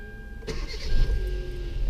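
A car engine cranks and catches after the ignition key is turned, a sudden burst followed by a rising, rumbling idle, loud and close with no talking.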